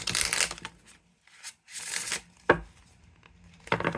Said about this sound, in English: This is my first time shuffling it,